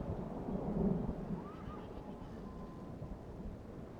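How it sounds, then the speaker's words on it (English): Rain and thunder in the strategy game Third Age Total War: a low rumbling wash swells briefly then settles into a steady dull roar, with faint distant sounds over it. "Into the rain, which is a problem."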